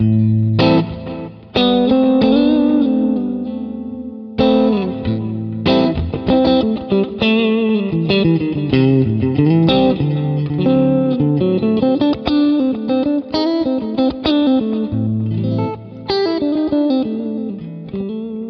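An electric guitar plays through the normal channel of a Fender Deluxe Reverb amp, a clean run of strummed chords and picked notes lasting over eighteen seconds, with delay and reverb still on and no voices.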